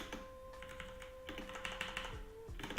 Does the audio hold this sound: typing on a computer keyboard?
yes